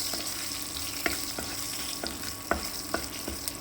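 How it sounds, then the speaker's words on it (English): Dried red chilies and hing sauté in hot oil with a continuous low sizzle. A few sharp clinks of a spoon stirring the pan punctuate it every second or so. "Meanwhile let us saute it nicely"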